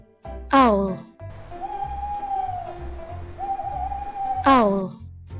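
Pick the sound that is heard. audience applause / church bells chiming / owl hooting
owl hooting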